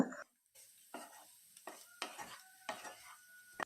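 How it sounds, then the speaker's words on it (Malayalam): Potatoes being stirred with masala in a pan for a potato mezhukkupuratti, a series of soft scraping, sizzling strokes at a steady rhythm, close and fairly quiet with no voices. "ഉരുളക്കിഴങ്ങ് ചേർത്ത് കൊടുത്ത് കഴിഞ്ഞ് ഒരു പത്ത് സെക്കൻഡ് നമുക്കിവ നല്ലതുപോലെ ഇളക്കി യോജിപ്പിക്കാം"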